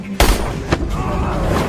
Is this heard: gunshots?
yes